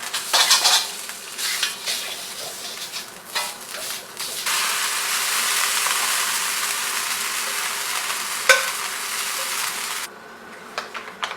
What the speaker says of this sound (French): va venir faire cuire un petit peu le curry jaune en fait pour lui donner de la force